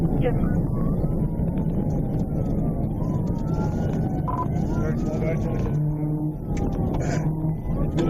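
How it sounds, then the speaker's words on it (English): A police car siren wails, rising and falling continuously under steady traffic or engine rumble during a high-speed chase, loud and fairly close, with no speech. "Trooper Miller immediately activated his emergency lights and siren"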